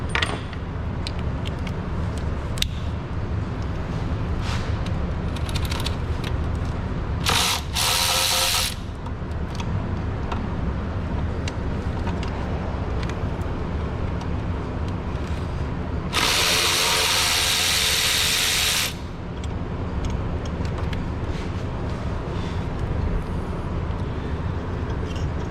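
A ratchet with an 8mm socket and a 3/8 to 1/4 inch adapter loosens cylinder head bolts on a Chrysler 300C, with quiet clicking and metallic clinks over a steady background hiss, broken by short bursts of louder noise.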